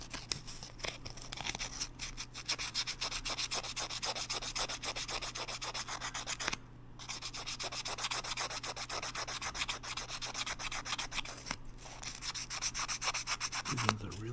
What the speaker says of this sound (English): clean the point assembly with some sandpaper.